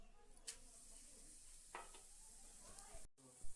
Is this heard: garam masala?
yes